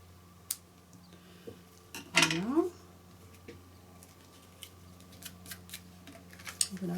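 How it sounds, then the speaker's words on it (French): Scissors snip thread on a handmade card, one close, bright cut with a short rustle around it, followed by faint taps, with someone speaking French quietly in between. "je vais couper un petit peu mon fil qui est un petit peu trop long"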